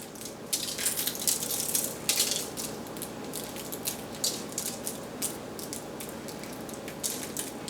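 A pepper grinder cracking pepper over sweet potatoes, close crunchy ratcheting bursts in uneven twists, moderately loud with no talking.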